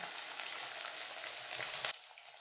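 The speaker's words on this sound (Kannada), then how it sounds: "ಸ್ವಲ್ಪ ಕೆಂಪಗಾಗೋವರೆಗೆ ಫ್ರೈ ಮಾಡಿಕೊಂಡು ಆಮೇಲೆ ನಾವು ತುಂಬಿಟ್ಕೊಂಡಿರುವಂಥ ಮೆಣಸಿನ್ಕಾಯಿನ ದೊಣ್ಣೆ ಮೆಣಸಿನ್ಕಾಯಿ ಕ್ಯಾಪ್ಸಿಕಮ್ ಹಾಕೋಣ" Capsicum fries in a pan with a steady, bright sizzle that ends abruptly near the close, leaving a quieter hiss.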